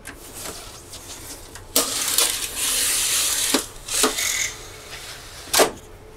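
An HPE ProLiant DL380 Gen 11 server slides along metal rack rails with a scraping rush, broken by several sharp clicks and clunks as it locks into place, fairly close with no talk.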